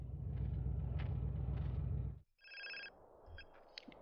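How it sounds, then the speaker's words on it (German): Inside GTA San Andreas, a loud engine rumble cuts out abruptly, and a telephone then trills in short, bright electronic bursts, two ring groups close together. "Da geht der Telefon."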